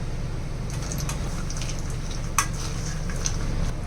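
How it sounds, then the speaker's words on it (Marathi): Cashews and almonds roasted in ghee are stirred into a dry-fruit laddu mixture in a pan, giving a steady soft sizzle with light scraping and a sharp tap near the middle. "काजू बदाम घेतलेले ना तुपामध्ये परतू ते टाकूया याला चांगलं मिक्स करून घेऊया"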